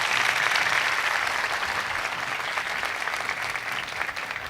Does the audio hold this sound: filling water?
no